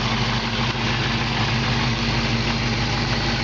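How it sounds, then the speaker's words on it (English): A 1968 Chevrolet Camaro convertible engine idles steadily, a smooth continuous low rumble with even vibration, close and constant throughout. "But you can just hear the engine sounds great."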